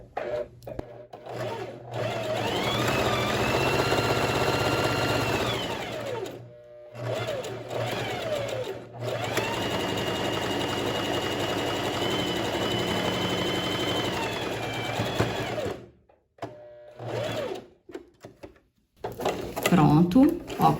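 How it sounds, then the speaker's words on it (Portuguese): A Facilita Pro 4423 sewing machine stitches a buttonhole in one step, running in two long steady whirring bursts with a pause between, followed by quieter handling sounds at the end. "é só pisar no pedal da máquina que a máquina vai fazer a casinha de botão aqui num passo só, a Facilita Pro 4423"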